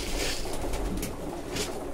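Pigeons in a loft on a frosty, foggy day, with soft cooing calls blending into a steady, close, airy background murmur that runs the whole time, no voices over it.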